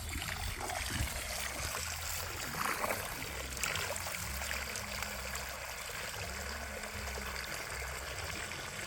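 Water trickles steadily into a backyard bird bath as it is being refilled, a faint continuous running and dribbling sound with no speech.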